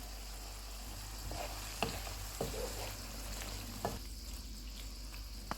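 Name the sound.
chicken frying in a pan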